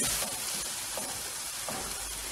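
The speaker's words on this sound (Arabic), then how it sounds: "غادي نخليو هاد المطيشه تقلى لينا مع هاد التوابل هادو حتى تقلى" Tomatoes frying with spices in a pan, a steady close hiss and sizzle with faint crackles and no talking.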